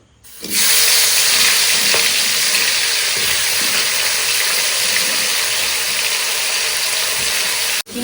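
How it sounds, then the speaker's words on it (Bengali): Golda chingri prawns, rubbed with turmeric and salt, drop into hot oil and set off a loud, steady, broadband sizzle. It starts abruptly and holds constant for several seconds, with a brief dip near the end. "এবার তেল গরম হয়ে গেছে এবার মাছটা দিয়ে দেবো"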